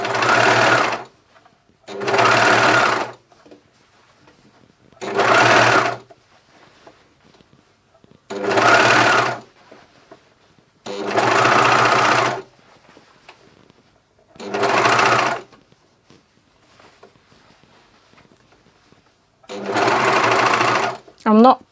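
A Juki MCS1500 coverstitch sewing machine stitches a neckband on a vest in seven loud, close bursts of whirring, separated by short quiet pauses.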